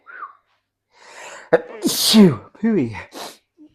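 A single sharp sneeze bursts out amid a few short vocal sounds and breaths, close and fairly loud.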